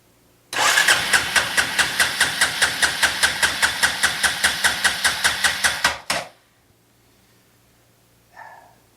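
An Arctic Cat 400 ATV engine cranks over on a jump box in a steady, rapid chug of about two dozen even pulses for several seconds, then stops without catching. A faint brief noise follows in the quiet.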